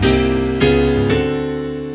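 Rich blues piano chords strike in quick succession, a full chord slide with three attacks, the last ringing out and fading.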